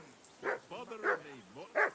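Three quick, close dog barks from Kingdom Come: Deliverance II, separated by whining, yelping tones in between.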